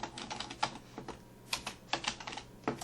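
Fingers tap on a computer keyboard in a quick, uneven run of light clicking keystrokes, quiet and close, with brief pauses between short bursts.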